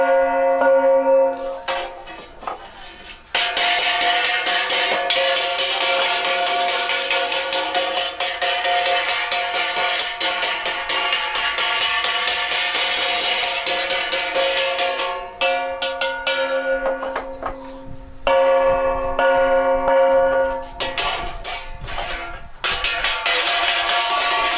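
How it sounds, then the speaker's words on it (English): A Jarai bronze gong is struck repeatedly while a tuner works on it, giving rapid metallic clanks with ringing, sustained tones, loud and close, with brief pauses between bursts. "This video shows gong tuning of a Jarai gong tuner."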